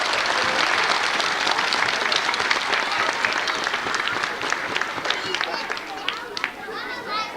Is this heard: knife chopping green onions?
no